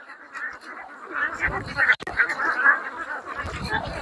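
Ducks on a duck farm quacking and honking in a loose, overlapping chorus at close to moderate distance, with people talking over the calls.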